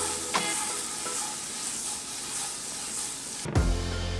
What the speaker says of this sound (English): Heat a pan over medium and add in a knob of butter.